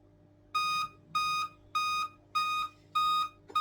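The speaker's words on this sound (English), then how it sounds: "Continuous beep." A Dell 3542 laptop sounding a repeated electronic beep, five clear tonal pulses of even length and spacing over a faint background hum.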